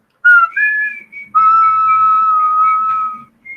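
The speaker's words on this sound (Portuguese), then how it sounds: "Tente assobiar agora" Someone whistles clearly up close: a couple of short wavering notes, then one long sustained tone that slides slightly before stopping.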